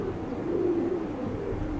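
Several pigeons give low, rolling coos close by, a steady murmuring drone that swells slightly in the middle, with no speech over it.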